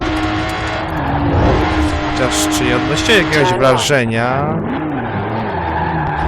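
A race car in a video game revs hard and skids, with squealing tires and rising and falling engine pitch as it slides around, while someone speaks over it.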